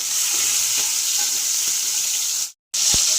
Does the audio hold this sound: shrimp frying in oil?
yes